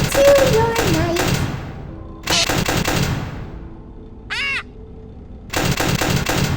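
Parrot squawks from the Ultimate Custom Night horror game of the Five Nights at Freddy's series, short harsh bird calls in a few bursts amid loud game noise and thuds, with a pirate-like voice speaking around them.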